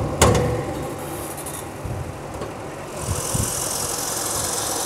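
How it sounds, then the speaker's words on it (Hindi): A 2000 Toyota Camry engine idles steadily at a used car market in Saudi Arabia, a low, continuous hum with a sharp click at the start and faint rattles and background noise. "मैं आपको इस गाड़ी का इंजन चेक करवा देता हूँ।"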